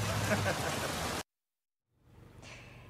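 Rain falling outdoors during a live local TV news weather report, a dense hiss that cuts out abruptly to silence, then returns more faintly.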